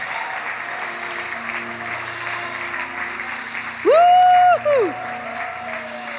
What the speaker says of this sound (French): est-ce qu'on peut applaudir la femme de Dieu ce matin?